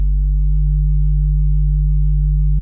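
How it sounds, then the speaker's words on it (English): Distorted 808 kick synthesized in Serum, a loud sustained low bass tone packed with harmonic overtones, holding steady for over two seconds before cutting off abruptly, with no talk. "This is with a lot of overtones, so basically like a distorted 808."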